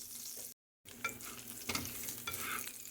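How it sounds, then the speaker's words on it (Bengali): Chopped onion fries lightly in a pan, making a quiet, even sizzle that drops out briefly. Several soft scraping stirs follow the break, with no voices. "পেঁয়াজ কুচি দেওয়ার পরে হালকা ভাজা হবে"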